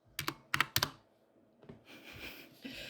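Several quick keystrokes on a computer keyboard as a Linux command is entered during an Arch Linux install, three sharp clicks in a row, then softer rustling clatter.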